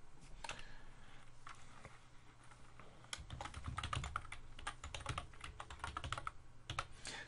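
Code is typed on a computer keyboard in steady, uneven bursts of close, quiet key clicks, busier toward the middle, with no voices.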